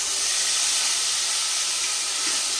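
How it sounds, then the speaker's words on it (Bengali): Tomato paste hits hot mustard oil left from frying fish, giving a steady loud hiss of sizzling and steam that fills the whole stretch with no voices over it. "এবার টমেটো বাটাটা আমি দিয়ে দিচ্ছি"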